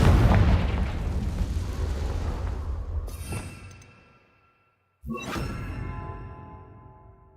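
A Confringo spell blast from Hogwarts Legacy: a loud, sustained boom with a rushing tail that fades to near silence, followed by a second sharp burst that rings out again.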